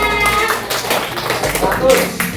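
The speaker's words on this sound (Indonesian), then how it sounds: "Tepuk tangan." A classroom workshop group applauds, a dense, continuous patter of many hands clapping at close range, blended with voices talking over it for the whole stretch.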